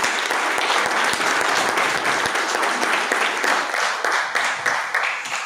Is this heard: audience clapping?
yes